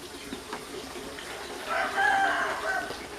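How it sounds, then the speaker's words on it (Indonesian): Chickens cluck softly as they feed, a faint flurry of calls swelling in the second half over a quiet, hissy background. "Nih ayam-ayam lagi pada makan."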